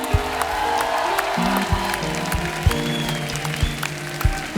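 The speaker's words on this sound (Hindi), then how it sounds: "क्या बात है, जोरदार तालियां हो जाए।" Steady applause from a TV comedy show studio audience, many hands clapping at once with a few sharper claps standing out, held at an even level throughout.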